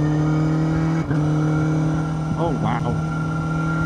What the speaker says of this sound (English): It's such a smooth engine as well